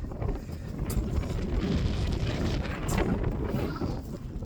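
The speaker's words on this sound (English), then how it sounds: "These sort of tours are extremely windy." Strong wind buffets the microphone on an exposed granite tor on Dartmoor, a continuous rough roar with gusty swells and no voices.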